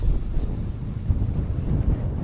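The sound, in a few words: strong wind by the Scottish coast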